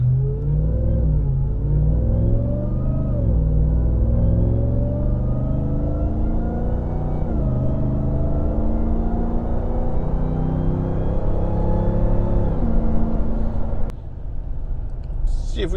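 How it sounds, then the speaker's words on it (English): A Ram TRX truck engine fitted with a WMS 750 supercharger cruises with a throaty exhaust rumble and a rising supercharger whine climbing steadily over it, ending with a brief clunk. "nice throaty exhaust note, cruising,"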